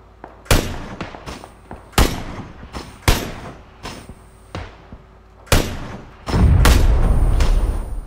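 Loud single gunshots ring out one after another in the video game PUBG, sharp close cracks spaced about a second apart, ending in a sustained rumbling burst of fire.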